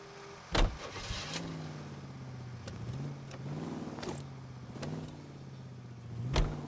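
Car in LA Noire starting up and pulling away, the engine rising and shifting through a few gear changes, with several sharp thumps along the way, moderately loud and with no speech.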